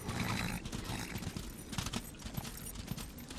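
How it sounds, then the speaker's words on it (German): A horse in the video game Darksiders clip-clops at a trot in an uneven rhythm of soft hoofbeats, with brief snorting sounds mixed in, moderately faint. "Oh, komm, ich will jetzt auf mein Pferd."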